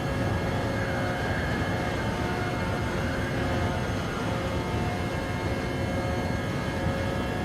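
A Gr.1 race car at Suzuka in Gran Turismo Sport roars at full throttle with a loud, continuous high-pitched drone, close and steady with no let-up.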